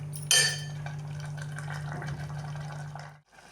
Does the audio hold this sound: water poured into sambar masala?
yes